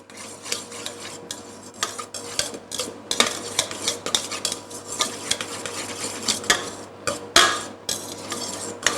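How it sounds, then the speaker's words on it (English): A fork scraping and fluffing cooked couscous in a bowl, busy irregular clinks and rasping strokes of metal on the dish, close and continuous without any speech. "I'll check on my couscous and loosen it a bit"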